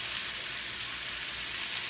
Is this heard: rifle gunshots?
no